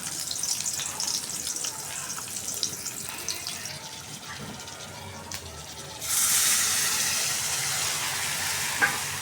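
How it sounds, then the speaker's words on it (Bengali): Spices sizzling and frying in oil in a pan for a home-cooked meal, a soft crackling hiss that swells louder partway through as the mixture is stirred. "মশলাটা কষাই নিতেছি।"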